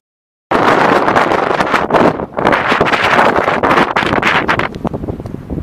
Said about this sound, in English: Oh God, it's ridiculously windy out here.